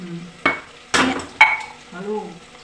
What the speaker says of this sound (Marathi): आता मी हे सगळं काही परतून घेते